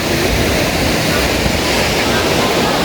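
A waterfall at a zipline site in Rize, Turkey's Black Sea region: a loud, constant roar of rushing water filling the scene, broadband and unbroken, with some wind buffeting on the microphone.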